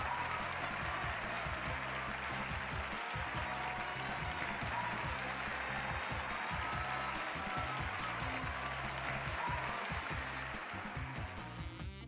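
Studio audience applause from the Wheel of Fortune video game, a dense, steady wash of clapping and crowd noise that holds loud and unbroken for about twelve seconds before thinning slightly at the end.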